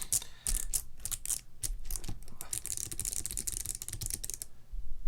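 Quick, clacky keystrokes on a TaoBao 96-key keyboard fitted with Box Navy switches, dense bursts of sharp clicks close to the listener, then a short pause near the end.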